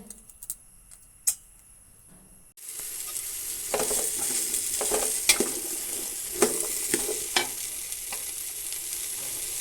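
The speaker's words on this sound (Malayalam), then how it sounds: "ഞാൻ ഈ മാങ്ങ വഴറ്റിയെടുക്കുന്നുണ്ട്" Mango pieces sautéing in sesame oil for pickle, a quiet start that jumps into a steady loud sizzle with repeated ladle clicks and scrapes against the pan, close and wordless.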